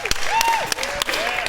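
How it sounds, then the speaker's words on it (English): A short burst of audience applause, clapping mixed with cheering and a high whistle-like tone gliding over it. "How about a round of applause for Marty?"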